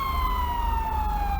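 A non-ELS NYPD police car siren in the LSPDFR police mod for a driving game wails loud and close, one sustained tone slowly gliding downward over a steady low engine rumble, with no voices.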